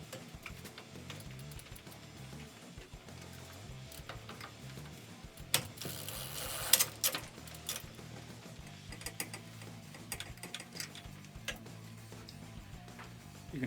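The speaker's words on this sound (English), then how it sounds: "Using the number 8 Allen key, we remove that center bolt." Bicycle crank center bolt on a square-taper crank being loosened with a number 8 Allen key, giving quiet close-up metallic clicks, ticks and scrapes with a brief louder clatter midway.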